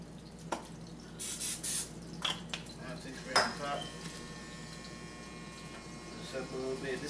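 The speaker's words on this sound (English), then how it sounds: "Non-stick spray," Non-stick cooking spray hisses onto a pan on a single hot plate in a home kitchen before frying eggs, a short spray burst amid clinks of cookware and utensils, with a person talking intermittently.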